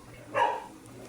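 One short, moderately loud dog bark, heard on its own against faint room background.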